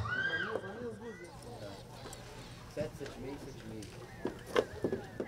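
A mare whinnies loudly at the start, followed by scattered hoof clops and snorts, with people talking nearby at a horse credentialing event.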